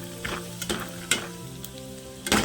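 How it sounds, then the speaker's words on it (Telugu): Peanuts, chana dal and curry leaves sizzle in hot oil as a tempering for an okra curry, a close, crackling fry broken by short bursts of stirring. "నూనె వేడైందండి. ముందుగా తాలింపు వేసుకుందాం."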